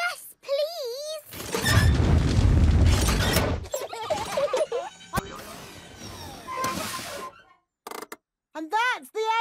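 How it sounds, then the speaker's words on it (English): A cartoon dragon in Peppa Pig breathes fire with a loud roaring whoosh lasting a couple of seconds, followed by creaks and rumbles, while high cartoon voices chatter and squeal around it. "Do you want to see it breathe fire?"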